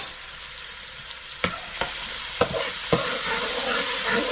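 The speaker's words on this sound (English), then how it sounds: "we're gonna add these things in, guys, and we're gonna saute it for a while" Ingredients for a coconut fish and shrimp stew sauté in a hot pan, a bright steady sizzle punctuated by four distinct stirring knocks and scrapes, close up with no voices.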